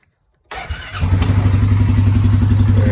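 A 2021 Polaris Sportsman 570 Touring ATV engine cranks after a short silence, catches almost at once and settles into a steady, close, throbbing idle.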